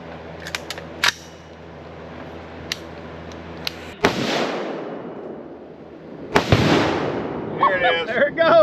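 Rifle shot detonating half a pound of Tannerite under an aluminum lid outdoors on the Fourth of July: a sharp crack followed by a booming blast that rolls away, then a second loud bang and echo, with someone talking afterward.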